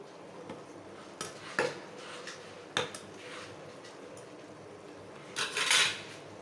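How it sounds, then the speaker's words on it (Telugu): Chicken biryani made with regular rice being stirred in a pot, a few sharp scattered clinks of a utensil against the metal pot, the loudest near the end, over a quiet background. "బిర్యానీ అలా ఒకసారి అయితే కలుపుకోవాలండి కింద పైకి ఇలా కలుపుకున్న తర్వాత"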